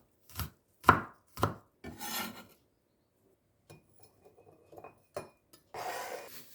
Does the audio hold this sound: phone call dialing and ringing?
no